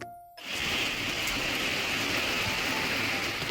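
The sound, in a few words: heavy rain falling outside at night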